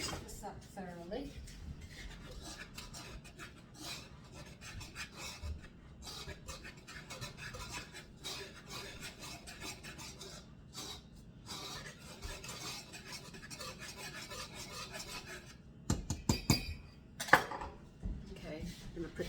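Cookie dough for Roman chocolate cookies stirred by hand in a bowl, a steady soft scraping and clinking of utensil against the bowl that runs throughout, with a few sharper clanks near the end.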